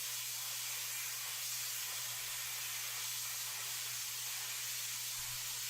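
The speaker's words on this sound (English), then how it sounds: "To begin to cut, place the guides on the workpiece and hold the trigger." A plasma cutter cuts through metal with a steady, loud hissing rush that holds unbroken throughout, over a low constant hum and with no talking.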